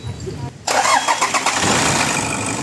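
A Toyota Innova engine that had overheated cranks and catches, roaring to life and settling into a steady idle, loud and close.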